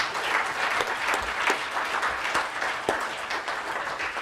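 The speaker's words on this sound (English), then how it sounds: "I don't know if you want to show some applause to the panel." An audience at a youth engagement charter launch gives the panel a sustained round of applause, close and lively, with individual sharp claps standing out of the dense patter throughout.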